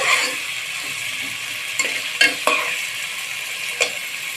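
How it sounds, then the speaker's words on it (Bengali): Vegetables frying with spices in a pan for a pabda fish curry, a steady close sizzle with a few sharp scrapes and clacks of a spatula stirring against the pan. "এগুলো সুন্দর করে আমি ভেজে নেব এই মশলার সঙ্গে"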